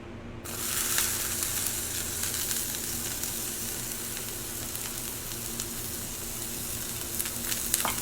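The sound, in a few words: onions frying in oiled pans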